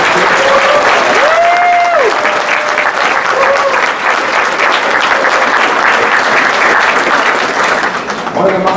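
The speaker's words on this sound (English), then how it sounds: "can you give a big round of applause?" Sustained applause from an audience at a middle school orchestra concert fills the whole stretch, steady and loud, with a few faint whistles or tones rising above the clapping.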